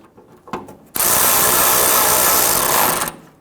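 Ratchet or power driver snugging alternator screws on a Toyota Tundra 4.7L V8, a few light clicks followed by a loud steady whirring burst of about two seconds, close by.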